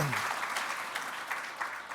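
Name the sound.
audience applause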